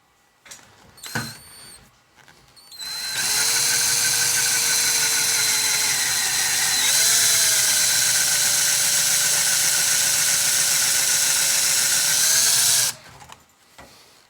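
A power drill drives a screw extractor into a stripped screw, a loud sustained whine of about ten seconds with a slight pitch dip midway, preceded by a few brief handling knocks and a short test burst.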